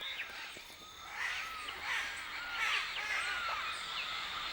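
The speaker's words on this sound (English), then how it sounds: "An early morning gathering of many kinds of macaws and parrots jostling for their meal of mud" Many kinds of macaws and parrots gathered at a rare clay lick outcrop in early morning, jostling to eat mud: a dense chorus of harsh, overlapping squawks and screeches, fairly distant and continuous.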